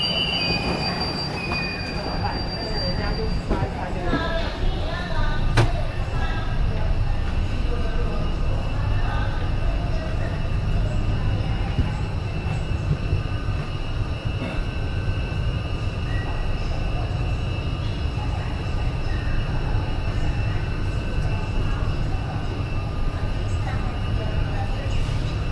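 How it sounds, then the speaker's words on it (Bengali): A terminal shuttle train pulls into a station at a Tokyo airport with a constant low rumble, high wheel squeals and a sustained metallic whine, heard close and continuous in an echoing space. "ট্রেন চলে আসছে।"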